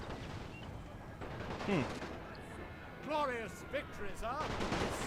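Artillery and gunfire rumble through a battle in The Great War strategy game during the Russian Revolution campaign against Polish forces, a continuous roar of distant fire with swelling blasts and overlapping tonal cries.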